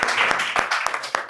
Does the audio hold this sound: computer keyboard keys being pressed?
no